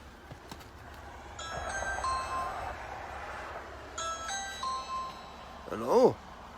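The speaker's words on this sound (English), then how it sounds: "They got a Ring doorbell." A Ring video doorbell plays its electronic chime, two bright ringing tone sequences a couple of seconds apart, fairly close, followed by a short warbling electronic sound.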